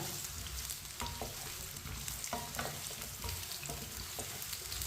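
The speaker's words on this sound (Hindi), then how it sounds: "2 मिनट के लिए हम इसे फ्राई कर लेंगे।" Potato and eggplant for aloo baingan frying in a pan, a steady close sizzle with occasional stirring clicks and scrapes throughout, no voices over it.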